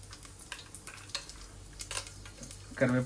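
Curry leaves dropped into hot oil in a pot for one-pot vangi bath, giving a brief burst of sizzling at the end after quiet stirring and utensil clinks.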